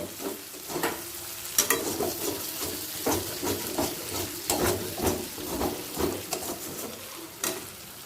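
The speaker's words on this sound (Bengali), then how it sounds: "এবার হাই ফ্লেমে এক মিনিট ভেজে নেব" Eggplant sizzles in hot oil over high flame while a utensil scrapes and stirs the pan in irregular strokes, steady and close.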